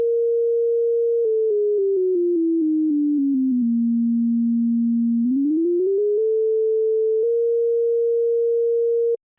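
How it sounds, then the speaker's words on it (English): A pure steady tone slides gradually downward in pitch, holds low, then climbs back up to its starting pitch, detuning like a music box running out of energy and being wound back up, with faint clicks along the bends. "Here's what detuning sounds like in case you don't know"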